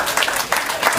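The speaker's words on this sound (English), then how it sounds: "Give the family who brought her up a round of applause." A short burst of clapping from a crowd at a funeral, a dense patter of hands that stays steady throughout.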